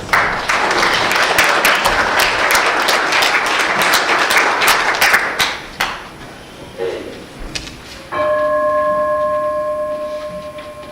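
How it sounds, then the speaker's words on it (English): A congregation applauds volunteers at a Unitarian Universalist service, brisk clapping with a few loud nearby claps for about six seconds before it fades out, followed by a sustained tonal chime or singing-bowl ring. "Round of applause to our volunteers."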